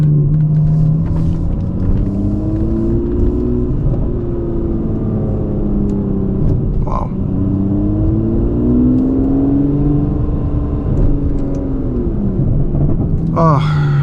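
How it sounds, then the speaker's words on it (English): Aston Martin DB11 V12 engine rumbling steadily at low revs, a deep continuous hum with slight swells in pitch, heard close from inside the car with faint voices underneath. "We're going to get another listen of the sound"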